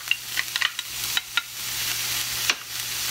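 Green pepper stirred into onions frying in a pan, giving a steady sizzle with scattered sharp clicks and scrapes from stirring, close and moderately loud throughout.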